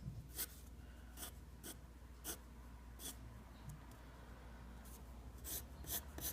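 A pencil sketches loosely and gesturally across paper, with soft raspy strokes coming in short bursts near and quiet against a low background hum.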